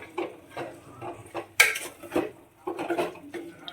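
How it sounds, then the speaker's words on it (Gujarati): A spoon stirs vegetable manchow soup with green sauce in a pot, giving repeated knocking and scraping clinks in a loose rhythm and one sharper clatter partway through. "બધું મિક્સ કરી લેશું।"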